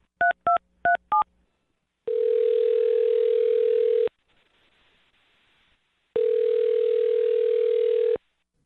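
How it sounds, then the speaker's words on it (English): Telephone call being placed: a quick run of four touch-tone dialing beeps, then a steady dial-type tone in two long bursts of about two seconds each, separated by a quiet gap; clear and close, with no talking. "I'm going to dial his phone number right now and see if we can get him on the phone"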